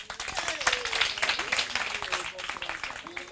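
Audience applause at a live folk-tale storytelling show: a dense, steady patter of clapping runs the whole time beneath a narrator's voice.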